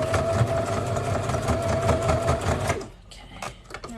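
A sewing machine stitches closed the gap of a fabric scrunchie with a steady, rapid, close mechanical chatter that runs for under three seconds. It then stops, leaving faint handling sounds.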